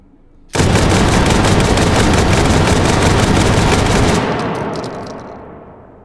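Two AA-12 automatic shotguns fire together in the game Hot Dogs, Horseshoes and Hand Grenades, a dense, loud, unbroken roar of rapid blasts lasting about four seconds, then a fading rumble with a few trailing shots.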